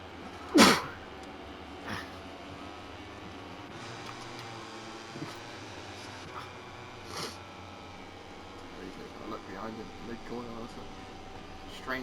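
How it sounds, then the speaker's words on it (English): One short, sharp sneeze bursts out close by, followed by a quiet stretch of faint background hum and soft incidental noise. "Sneeze."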